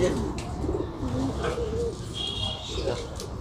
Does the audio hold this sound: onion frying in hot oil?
no